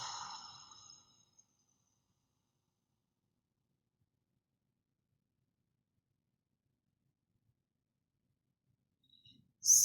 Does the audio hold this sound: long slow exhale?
yes